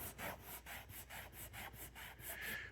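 Scratchy sleeping pad fabric is rubbed back and forth in a steady rhythm, each swipe a close, raspy swish, about a dozen strokes with no talking.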